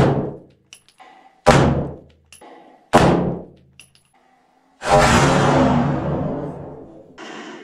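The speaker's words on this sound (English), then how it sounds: "One shot at the handle." A Glock 17 in 9mm fires at a Cold Steel Peace Maker II knife: three sharp, loud, close reports spaced about 1.5 seconds apart, each ringing out, then a longer rumbling blast that decays over a few seconds.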